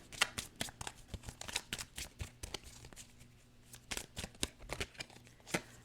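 A Cosmic Oracle card deck is shuffled in quick riffling bursts of crisp card flicks, close but quiet, repeating steadily with no talk.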